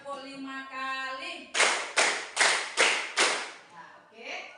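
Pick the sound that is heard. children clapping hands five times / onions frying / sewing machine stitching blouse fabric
children clapping hands five times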